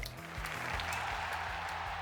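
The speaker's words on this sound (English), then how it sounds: "The whole audience claps for Haru Urara's efforts." An anime audience claps in applause for the racehorse girl Haru Urara, a soft, fairly quiet patter of many hands under a low musical backing.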